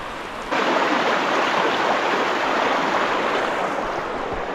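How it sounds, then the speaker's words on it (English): A river rushes in a steady, loud broadband wash close by while someone wades across it on foot on the way to an old mine, with no talking. "It means we've got to cross this river."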